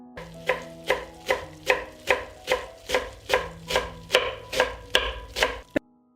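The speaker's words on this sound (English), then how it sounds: "After the garlic, I will chop 2 bunches of fresh parsley." Two bunches of fresh parsley chopped with a knife on a board. About a dozen crisp, evenly spaced chops are heard close up, alone and without talk, ending abruptly.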